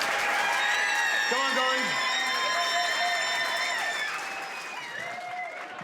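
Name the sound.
audience applause for a comedian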